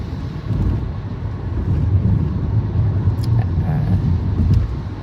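Steady car road noise from inside a vehicle moving through Seattle traffic, a continuous low rumble with wind and tyre roar and a few faint high clicks.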